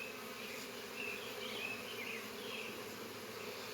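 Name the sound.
honey bees buzzing inside a beehive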